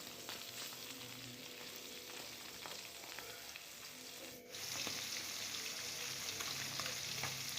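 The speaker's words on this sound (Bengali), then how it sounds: "আমি উল্টে পাল্টে মাছগুলো ভেজে নিচ্ছি" Pabda fish frying in oil in a pan, a loud continuous sizzle heard up close, briefly interrupted as the pieces are turned, then resuming slightly louder; no voices.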